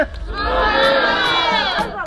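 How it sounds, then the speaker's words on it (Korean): An audience in a small theater shouts a short place-name chant in unison, a loud, near collective yell that swells and holds for about two seconds before cutting off, with a few lone voices at the edges. "다시 한번 크게 외쳐주세요."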